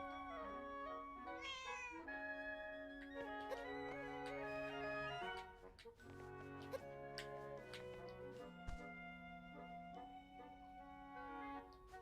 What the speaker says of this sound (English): Also, we have a cat.